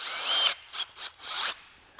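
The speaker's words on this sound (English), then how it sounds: "let's go ahead and make some drill holes just with this drill, with the hammer drill, with the impact" A power drill bores holes with a 1/4 inch bit, running at its highest speed in three loud bursts of whining, grinding drilling separated by short pauses, close up with no talking.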